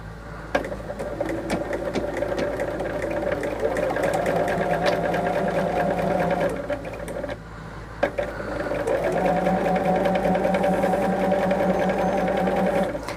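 A quilting sewing machine stitches in two fast, steady runs with a brief pause between them, whirring and clattering up close.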